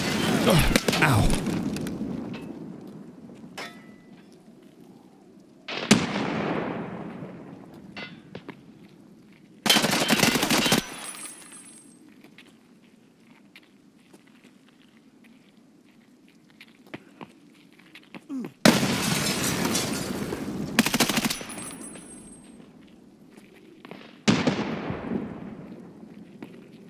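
Escape from Tarkov gunfight: loud, sharp bursts of gunfire and explosive blasts strike in separate clusters, each with a decaying rumble, between quieter stretches of low background hum.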